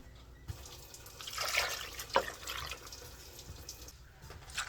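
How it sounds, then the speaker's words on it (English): Water pours into a Crockpot of cranberry sauce, a short splashing stream rising midway and fading, with a few drips, close and fairly faint. "I'm going to put 2 more cups of water in here."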